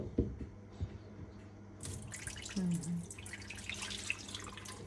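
Dirty water pours and splashes into a sink for a few seconds during a drinking water filter change, with soft drips and clatter nearby.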